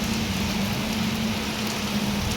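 Heavy rain pours down in a dense, steady hiss over the surface, an unbroken wash of drops with a faint low hum beneath and no speech.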